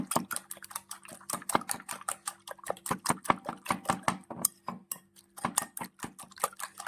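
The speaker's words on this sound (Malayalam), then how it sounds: "നന്നായിട്ടൊന്ന് ബീറ്റ് ചെയ്യണം." Eggs with salt, turmeric, chili and pepper powder are beaten for an omelette. Rapid, steady clicking strokes rattle against the bowl in a brisk rhythm, close and clear, with a brief pause midway.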